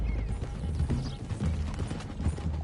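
Several horses galloping in the video game Red Dead Redemption 2, a steady rumbling clatter of hoofbeats that fills the short clip.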